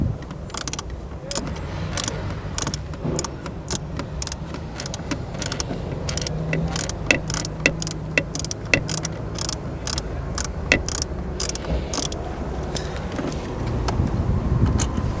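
A ratchet wrench with a deep socket works a radio mounting bolt inside the dash of a 2014-21 Lexus GX, giving a steady run of quick clicking strokes close by, with no talking.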